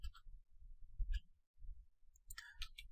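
Keyboard keys tapped on a computer while typing a command, producing soft intermittent clicks in short bursts, fairly faint and close.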